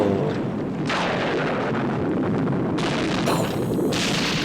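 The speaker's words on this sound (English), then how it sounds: "There's so many explosions." Explosions from the 1967 film You Only Live Twice, with a volcano erupting: loud, continuous rumbling booms that swell in repeated bursts and fill the whole stretch with dense, roaring noise.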